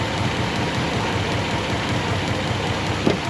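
A 1959 Ford Fairlane engine, run after sitting for 15 years with old plug wires, idles with a rough, steady low rumble and a faint ticking, close by, with a brief knock near the end.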